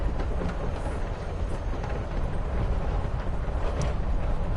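A train in the video game Life Is Strange: Before the Storm gives a steady, loud rumble of rolling railcars with faint clattering, continuous throughout, no talk over it.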